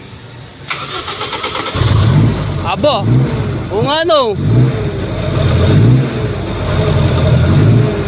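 A V8 car engine cranks to life and revs, its exhaust giving a deep, throbbing rumble that rises and falls under steady conversation.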